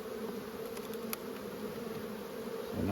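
Honey bees in the brood box of a beehive hum with a steady, close, continuous buzz that stays even and loud for the whole stretch, without any talking.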